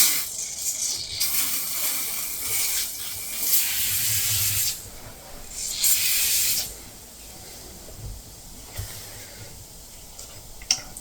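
Foam leather cleaner sprayed onto a leather suit, heard as several close, bursty hisses of a few seconds each, separated by quieter gaps, with no talking.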